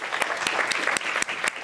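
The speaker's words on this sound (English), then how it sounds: "round of applause for our dancers" Short burst of audience applause for the dancers after a generative choreography performance, brisk crowd clapping with several crisp, distinct claps standing out near the listener.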